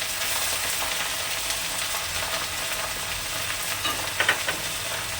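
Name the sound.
onion sizzling as it is added to hot oil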